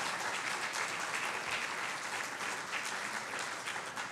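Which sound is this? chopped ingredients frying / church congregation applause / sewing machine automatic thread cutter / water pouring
church congregation applause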